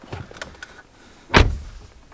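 A BMW car door shuts with one solid thump, preceded by faint rustling and small clicks inside the vehicle.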